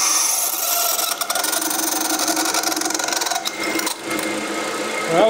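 A cheap high-speed steel drill bit grinds continuously through metal, making a loud, steady whir with brief dips near the end as it breaks through.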